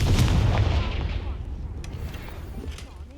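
The Confringo fire spell from Hogwarts Legacy goes off with a heavy, booming blast, a loud low rumble that swells right away and then trails off over about three seconds.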